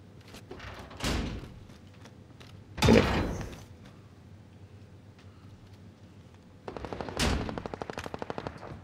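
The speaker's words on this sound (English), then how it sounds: "gunshots" Several sharp, booming gunshots in the video game Call of Duty: Warzone ring out at spaced intervals, followed by a rapid burst of automatic fire, with quiet stretches in between.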